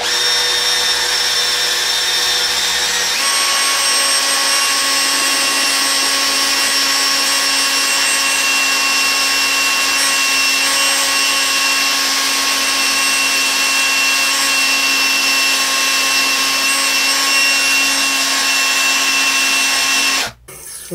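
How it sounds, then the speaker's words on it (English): A wire wheel in a power drill spins steadily against a 150cc scooter's starter motor, giving a constant high-pitched whine that steps up in pitch a few seconds in, then cuts off abruptly near the end. "Get a wire wheel, put it in a drill, and I'm just gonna lightly go over it and clean off the crap that's on it."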